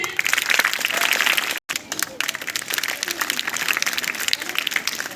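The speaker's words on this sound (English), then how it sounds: "All of you clap." A school audience of children and teachers applauds at an Independence Day cultural programme, a steady dense wash of clapping that breaks off briefly and then resumes.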